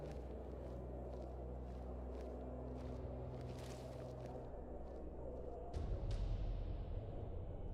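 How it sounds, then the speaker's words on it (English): Soft footsteps in modded Skyrim tread at a steady pace over a low ambient hum, faint and unhurried, then the background swells louder near the end. "I hear footsteps."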